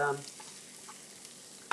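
Quiet sizzle of an egg frying in a pan with a faint crackle, a soft scrape near the start and a sharper utensil clink at the end.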